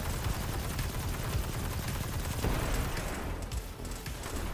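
Rapid gunfire in the Destiny 2 Beyond Light campaign, a dense continuous barrage of loud bursts and booms that fills the whole stretch, briefly thinning near the end.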